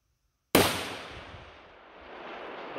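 A single rifle shot is fired at a 750-yard target, opening with one loud, sharp crack after silence, followed by a long decaying rumble and echo.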